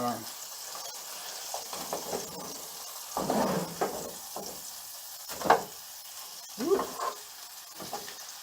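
Large beef burger patties sizzling in a pan, with bursts of scraping and clatter as a big spatula turns them; the frying is fairly quiet with intermittent louder clicks.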